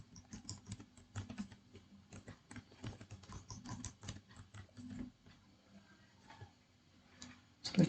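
Keys on a computer keyboard clatter as a password is typed, a close, fairly quiet run of quick irregular clicks that thins out before one louder final tap.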